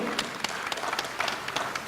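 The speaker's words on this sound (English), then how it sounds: "Let's give her a round of applause for moderating the session so well" A round of audience applause for the moderator at a social media conference session, soft, distant clapping with scattered sharper claps, fairly faint throughout.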